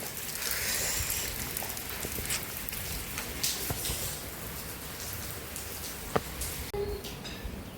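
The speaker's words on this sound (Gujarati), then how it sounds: "વરસાદ ઓછો થઈ ગયો." Steady rain patters on surfaces nearby in a village, a soft continuous hiss with scattered louder drips and taps, no voices.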